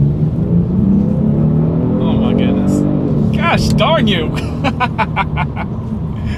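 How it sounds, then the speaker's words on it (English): A Genesis G70 with a twin-turbo V6 accelerates hard, its engine droning strongly with rising pitch and gear changes, loud and close from inside the cabin while a man exclaims over it. "Let's see how quickly we can get the G70 here up to speed."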